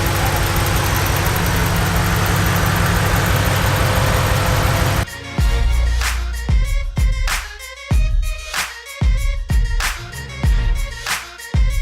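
A car engine running on Amsoil oil, roaring steadily and loudly for about five seconds before giving way to a series of irregular, heavy knocks and thumps.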